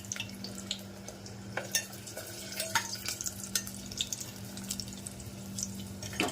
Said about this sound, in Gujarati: સરસ મજાના મરચાં તળાયેલા સાહેબ જોઈ શકો છો.